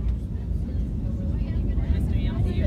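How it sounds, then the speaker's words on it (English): Loud, low jet engine roar of an airplane during takeoff rumbles continuously beneath an excited voice talking over it. "Listen to the wind. Listen to the engines."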